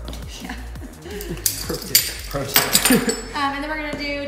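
A spoon stirs a pot of green chili chicken soup, making a run of irregular metallic clinks and scrapes that grow louder midway, with faint background noise between strokes.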